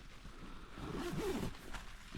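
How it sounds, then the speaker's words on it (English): A tent door zip on a Wild Country Helm Compact 1 is pulled open with one hand, giving a continuous rasping zip run close by across most of the clip with no talking. "See if we can unzip this in one hand, see how good the zips are."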